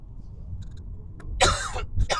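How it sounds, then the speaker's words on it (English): A single close, sharp cough bursts out after a quiet moment, followed by a brief throat-clearing rasp. "I'm going to cough real quick"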